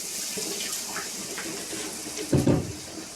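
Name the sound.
water pouring into cooking pan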